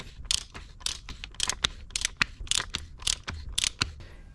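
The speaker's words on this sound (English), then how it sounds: "Let's screw this down tighter and torque it to 17 to 18 foot-pounds." Torque wrench ratcheting down an oil filter cover on a Range Rover Sport, a quick series of close, dry mechanical clicks in short irregular bursts, fairly quiet and with no voices.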